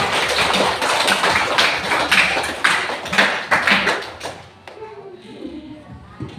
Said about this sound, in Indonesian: Oke, tepuk tangan untuk semua dulu ya.